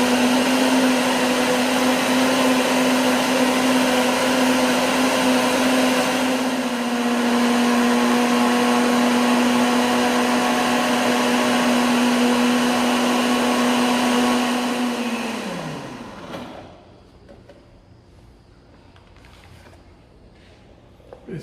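A blender whirs steadily for about fifteen seconds, beating a mayonnaise-like emulsion as olive oil is drizzled in, a loud constant motor drone that winds down and stops, leaving faint clinks and quiet room noise.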